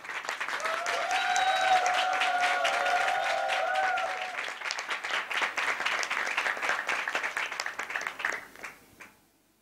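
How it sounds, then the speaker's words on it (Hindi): Loud applause from a church youth gathering welcoming a pastor to the stage, sustained clapping across the hall that fades out near the end, with no talk over it. "जोरदार तालियों के साथ स्वागत करें"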